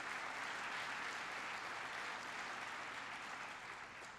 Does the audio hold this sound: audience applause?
yes